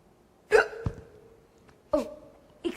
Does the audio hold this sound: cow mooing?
no